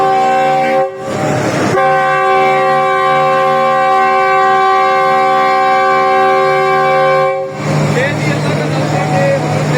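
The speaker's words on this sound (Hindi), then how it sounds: "नई पाक बिजनेस एक्सप्रेस का इनिशियल डिपार्चर हारन जो कि हो चुका है" A locomotive horn sounds long and loud at the inaugural departure of the Pak Business Express from Lahore, holding a steady blast for several seconds, with rumbling station noise before and after.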